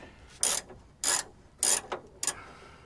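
A ratchet works a bolt loose from a bumper bracket on a 1992 Ford F150, giving four short, sharp clicking bursts at a steady pace, close and clear with no talk.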